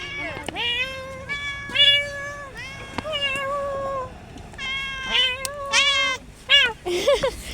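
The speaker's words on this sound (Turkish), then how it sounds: "Miyavca konuştuk Merve abla." A cat meows repeatedly on a street in Kastamonu, Turkey: a series of clear, close, drawn-out meows with short pauses between them, some rising and wavering, with faint background noise.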